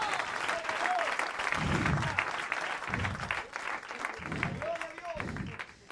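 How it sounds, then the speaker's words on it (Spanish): A church congregation breaks into sustained, dense applause of praise during a sermon, the clapping steady and close throughout, with a voice rising over it at moments. "¿Con cuánto le damos un aplauso de alabanza,"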